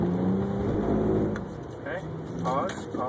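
A 2011 BMW 335i accelerates on a skid pad. Its engine note rises and hums under close, continuous speech from people inside the car.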